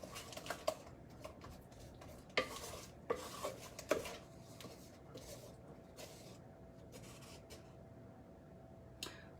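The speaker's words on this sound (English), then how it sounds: "So I'm going to slowly incorporate mix the dry in with the wet." A spoon works dry ingredients into wet batter for keto biscuits in a bowl, a few scattered faint clinks and scrapes with long quiet gaps and a low hum.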